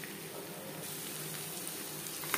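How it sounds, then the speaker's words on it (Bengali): Crushed garlic and browned onions fry in a pan with a steady close sizzle, no talking. "2-3 মিনিট পেঁয়াজের সাথে রসুন ভেজে নেওয়ার পর"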